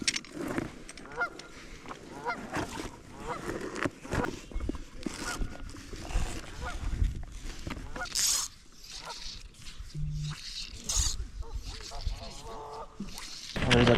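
Ducks and other waterfowl flushed by a swooping golden eagle beside the water in Oregon, giving scattered honking calls, some loud and close, others farther off, over a steady outdoor rush of wind and water.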